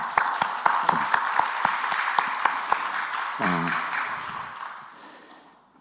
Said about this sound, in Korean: 우리 서로 격려하는 의미에서 박수 한번 하겠습니다